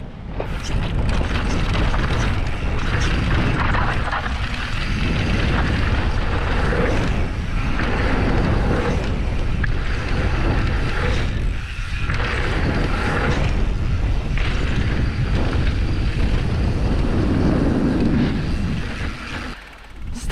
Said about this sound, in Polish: strasznie wieje z tamtej strony